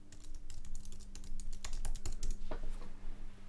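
Steady, rapid clicking of computer keyboard keys as an administrator password is entered on a Linux system, a continuous run of close, crisp keystrokes over a low electrical hum.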